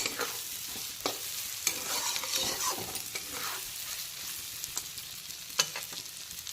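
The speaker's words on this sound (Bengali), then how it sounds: "পেঁয়াজ কুচিটা কিন্তু এখন হালকা বাদামি কালার করে ভেজে নিয়েছি" Chopped onion fries in a pan and is stirred with a utensil, a continuous soft sizzle broken by occasional scraping knocks against the pan, close by and with no talk.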